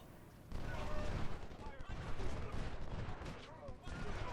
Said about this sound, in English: All the artillery in the world opens up.